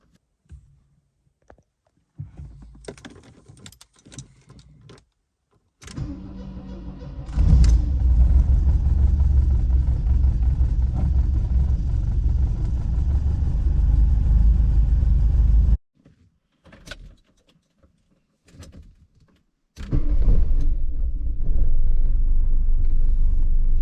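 A 1983 Porsche 924 with a 2.0 engine and automatic gearbox cold-starts after cranking bursts, then settles into a loud, steady idle rumble before cutting off, restarting and running again, heard close up with no talking.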